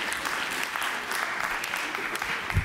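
An audience at a cultural forum debate applauds in a steady, dense wash of clapping that continues throughout at moderate volume.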